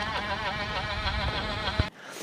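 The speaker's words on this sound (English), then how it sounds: "Here we have the Maverick hub sound system. You'll hear it now." A Mavic rear bicycle hub freewheels with a steady, close buzzing ratchet that runs continuously, then cuts off abruptly near the end, leaving only faint background noise.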